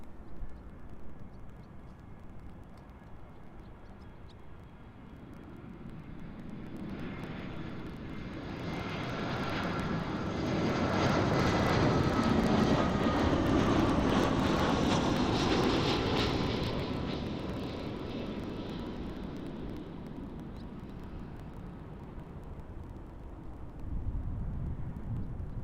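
An EasyJet Airbus A320 landing on runway 06 at Amsterdam airport, its engine roar swelling steadily to a loud, broad peak midway and then easing off as the airliner passes, with no talk over it.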